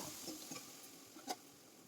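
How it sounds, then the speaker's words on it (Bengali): Quiet sizzling of potatoes, tomatoes and spices frying in a pan, with soft scraping stir strokes and a light clink near the end. "এদিকে দুটো টমেটো দিয়েছে জানো তরকারিতে টমেটোটা আর মশলাটা দিয়ে কষাচ্ছি"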